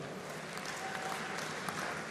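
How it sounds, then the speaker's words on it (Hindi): Crowd at a political rally applauding, a steady dense clatter of many hands heard at a distance and fairly quiet, continuing evenly without a break and with no voices on top. "आप लोग ताली बजा रहे हो"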